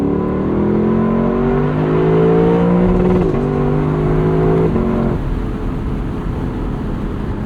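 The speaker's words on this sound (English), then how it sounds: "And that iconic Lexus rev limiter still lives on in the LC for 25." A 2025 Lexus LC 500 convertible's V8 engine revs up close and loud, climbing in pitch to the rev limiter and bouncing there before settling back to a steady roar, with no talk.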